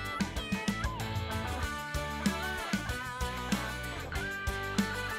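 Over a busy musical backing with a steady beat, a cat-like meowing tone rises and falls several times.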